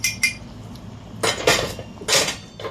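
Cornstarch mix being stirred into a pot of chicken corn soup, heard as a few sharp metallic clinks and scrapes of a utensil against the pot, spaced irregularly and close.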